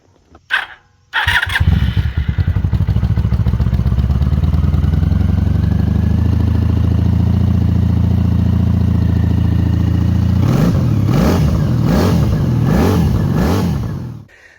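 An old engine on an unknown-year vehicle showing 14,000 miles, started with fuel and choke on, cranks briefly, catches and runs loud and steady, then revs in several rising bursts near the end before cutting off.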